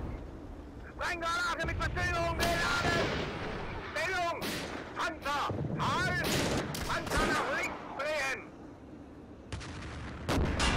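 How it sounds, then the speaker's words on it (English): Anti-tank gun fire in the tank game Steel Fury Kharkov 1942 on a battlefield with Soviet infantry: heavy booming shots and bursts repeat throughout while someone talks excitedly over them. "Anti-tank gun, anti-tank gun."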